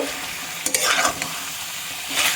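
Mutton pieces coated in spice paste sizzle and fry in a pan for a mutton curry, a steady close hiss broken by a few louder scrapes and stirs, with no talking.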